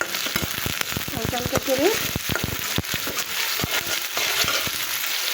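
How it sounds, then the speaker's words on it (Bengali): Shrimp fry with onion and green chili in a pan, a constant sizzle broken by frequent sharp spatula clicks and scrapes, with a voice briefly talking over the cooking. "এই পেঁয়াজ ভাজার সাথে সাথে আমি এখানে দিয়ে দেবো হচ্ছে আমার এই চিংড়ি মাছগুলো এই পেঁয়াজের সাথে ভেজে নেবো"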